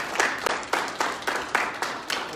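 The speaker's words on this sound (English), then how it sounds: "Another round of applause." Applause at a cadet awards ceremony for an Army JROTC military awards class, heard as a steady crowd clapping with rhythmic bursts throughout.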